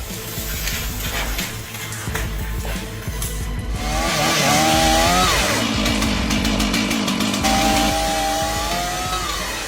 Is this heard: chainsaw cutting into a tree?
yes